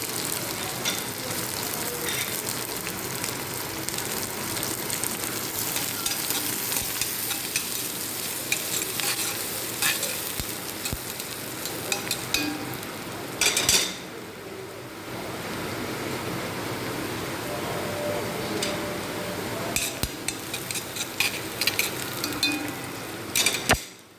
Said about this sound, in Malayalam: ആ സമയത്ത് ചെറുതായി അരിഞ്ഞ ചുവന്നുള്ളി ഇട്ട് കൊടുക്കുന്നുണ്ട്.